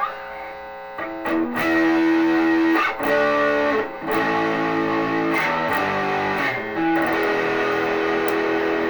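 Distorted electric guitar, a Leo Jaymz Popcaster on the neck pickup, plays sustained chords and notes, warm and thick, with short pauses between strummed phrases.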